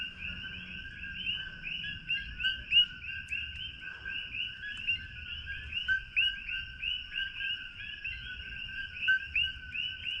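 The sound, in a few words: tree frogs calling at night in Hilo, Hawaii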